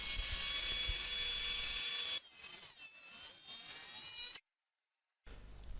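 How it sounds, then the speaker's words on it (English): Thickness planer feeding wood through in several passes, with a steady high whine that shifts to rougher cutting noise, a short silent gap, then the machine running again. "Now treating in the thickness planer, making a few passes and turn another side for 1 pass more."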